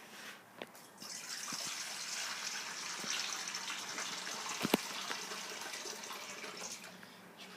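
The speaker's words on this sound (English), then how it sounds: "Okay, pour in the water first." Water pours steadily into a container for a dry ice experiment, a soft continuous gush with faint splashes and a clunk near the middle, fairly quiet and without speech.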